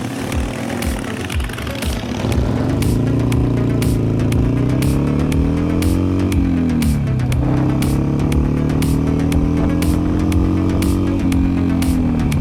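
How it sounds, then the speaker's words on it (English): A motorcycle ride along the coast near Malibu, with a steady engine drone that rises and dips as the bike accelerates and shifts, heard up close against constant wind buffeting. "for the next location, we're taking the bike."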